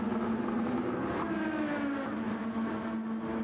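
Race cars lapping Monza in Gran Turismo 7, a steady loud engine drone with a sustained tone that slides down in pitch as the cars brake, holding continuously throughout without any talk.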